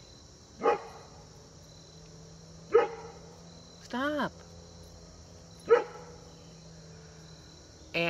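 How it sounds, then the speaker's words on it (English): A dog named Pearl barking off at a distance, four separate barks spaced a couple of seconds apart over a steady insect buzz, with a brief spoken word near the end. "There's Pearl over there barking her bullhead off."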